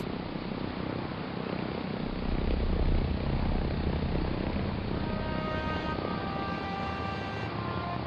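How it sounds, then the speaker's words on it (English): Bomber engines roar at takeoff power with rockets ignited, a loud continuous rumbling drone that swells midway, with a rising whine of several tones emerging near the end and no talking. "The engines revved up, the rockets ignited, and suddenly the bomber took off with a roar, almost straight up."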